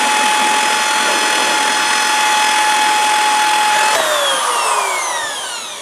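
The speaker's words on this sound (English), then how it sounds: "We're going to see if we can re-drill the hole" A power drill bores a hole through a Craftsman lawnmower hood, running as a loud, steady whine that suddenly shifts pitch and begins to wind down near the end.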